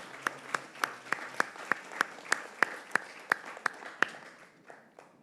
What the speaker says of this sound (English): And more applause, I think.